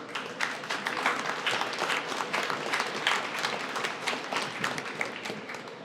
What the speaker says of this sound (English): Can we give these wonderful Main Street people behind me a round of applause?